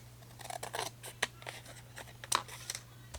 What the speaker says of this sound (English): So whatever doesn't cut, I just use my scissors